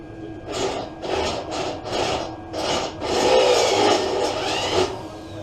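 A titanium step-up drill bit bores a small hole for a latch hook on a Big Bear 400cc 4x4 under repair, grinding in about eight rasping bursts that run together into a steadier grind near the end.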